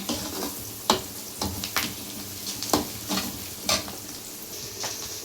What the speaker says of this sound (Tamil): வெங்காயம் நல்லா வதங்கிடுச்சு, இந்த அளவுக்கு வதங்கினா போதும்.